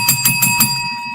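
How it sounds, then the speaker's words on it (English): A long bell rings close and loud in four quick, evenly spaced strikes, its bright metallic tone sustaining and fading afterward, with no voices. "I got a long bell tonight."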